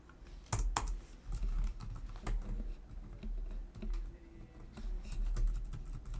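Rapid clicking keystrokes on a computer keyboard come in an irregular, steady patter, close and fairly quiet, with no voices.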